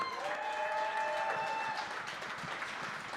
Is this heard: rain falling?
no